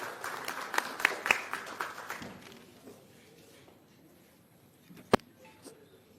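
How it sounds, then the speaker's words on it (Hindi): Audience applause welcoming the next speaker, Punjab MP Meet Hayer, onto the stage at a political student-wing launch event, a burst of clapping for about two seconds that thins out into scattered claps, with one sharp tap near the end. "एक बार जोरदार तालियों से इनका स्वागत करें।"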